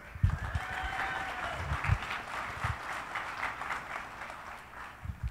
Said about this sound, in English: Let's give a round of applause for all of them.